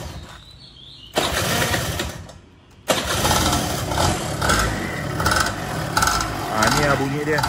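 A Suzuki V100 two-stroke scooter engine kicks into life after a quiet start, then settles into a loud, steady, buzzy running note with slight pulsing, recorded close by.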